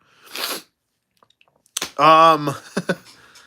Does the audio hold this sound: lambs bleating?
no